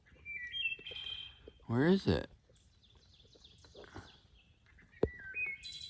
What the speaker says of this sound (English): It's like a beautiful songbird, almost like a canary or something.